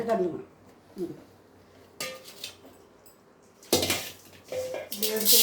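A metal cooking vessel being emptied out while preparing chilli powder gives clattering metallic knocks and a rushing pour in a few close bursts.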